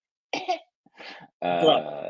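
A person vocally imitates a small dog's tiny cough, with a couple of quick, dry little hacks followed by a longer raspy, wheezy rattle, close and alone.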